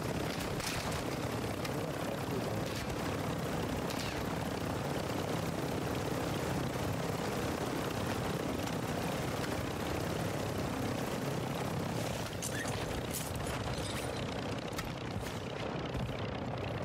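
Helicopter in Call of Duty DMZ, a steady droning rotor and engine rumble that holds throughout the stretch.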